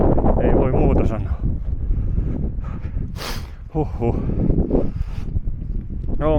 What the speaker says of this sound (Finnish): No, mutta kyllä tuulee sillä lailla